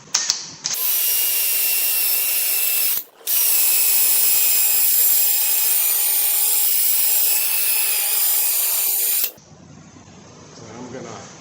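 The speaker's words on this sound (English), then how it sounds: "So I'm gonna hit her with the file a little bit more." Steady, loud grinding rasp against rusty brake hardware on a 2017 Chevy Traverse, running several seconds with a short break, then dropping to a quieter rub.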